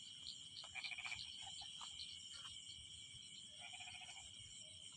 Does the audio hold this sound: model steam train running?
no